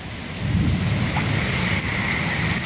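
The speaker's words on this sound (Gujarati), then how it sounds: "વરસાદનો ઓરા." A heavy rain shower pours down without a break, a dense, loud hiss of drops drumming on surfaces close by, with no voices.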